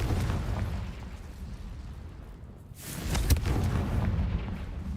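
A Confringo blasting spell goes off in Hogwarts Legacy: a low rumbling backdrop swells into a sharp, loud explosive crack near the middle, followed by a rolling boom and debris-like noise.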